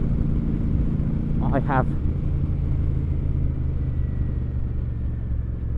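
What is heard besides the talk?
Royal Enfield Super Meteor 650 motorcycle riding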